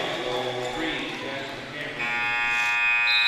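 An end-of-quarter buzzer at a 2023 high school basketball game, Medora vs West Washington, sounds as a loud sustained electronic tone that begins partway through and holds to the end, over gym noise and talk.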